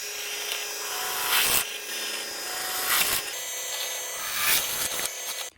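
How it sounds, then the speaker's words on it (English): Harsh, scratchy rasping of a tool sanding the edges of a bracket for a dirt bike wheelie light, continuous with several louder strokes at regular intervals. "Now I'm gonna sand it to get these edges off."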